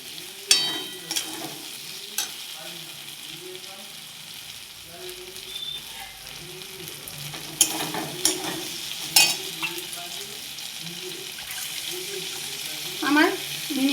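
A spoon stirs okra curry in a pan and water is poured in, giving soft scraping and gentle sizzling with light clinks, steady and moderately quiet.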